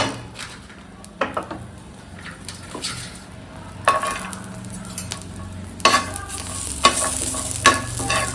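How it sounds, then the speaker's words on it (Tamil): Curry leaves and garlic dry-roasting together in a pan over a low flame, with soft steady crackle and sizzle broken by occasional scrapes and clinks of a spoon stirring, no voices. "நம்ம கருவேப்பிலையும் பூண்டையும் ஒன்றா சேர்த்து வறுத்துக்கலாம்"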